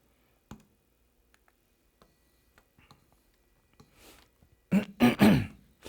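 A couple of short, close throat-clearing rasps near the end, preceded by quiet scattered clicks and taps.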